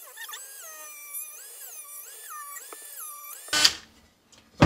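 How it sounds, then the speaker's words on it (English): A Ryobi rotary tool whines at a high pitch that rises and falls in repeated swells as it cuts into a pipe fitting. A sharp burst of noise near the end cuts the whine off. "I am going to take my new Ryobi Dremel looking thingy and turn it on. And I'm going to cut this."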